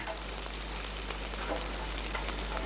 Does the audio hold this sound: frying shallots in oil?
yes